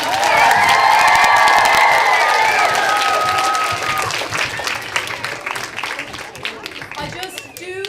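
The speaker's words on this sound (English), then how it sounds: "To our chief pirate, Jamie, please give him a huge round of applause." Loud audience applause with cheering and children's shouts for the chief pirate Jamie at a pirate-themed school event in Waterford City, dense at first, then thinning into scattered claps and calls.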